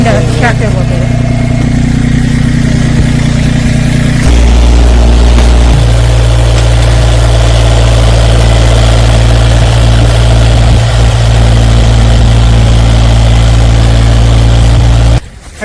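A tractor engine idles close by on a freezing November day at a Maryland greenhouse build site, giving a loud, steady low rumble that holds without a break until it cuts off at the very end.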